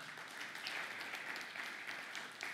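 A church congregation claps during a Sunday service, a faint, even patter of many hands heard from a distance and continuing without pause.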